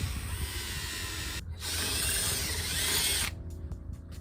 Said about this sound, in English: So I'm going to drill those 2 holes.